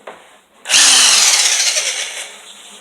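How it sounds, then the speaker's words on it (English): Electric drill spinning up with a roll crimper attached for crimping a shotshell over a slug, a loud steady whir starting abruptly and holding close to the mic, with friction rubbing under the motor. "Then I'm going to attach the roll crimper to the drill."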